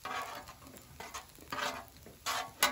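Eggs cook on a flat griddle alongside ribeye fried rice, giving a soft, close sizzle broken by several bursts of spatula scraping and stirring.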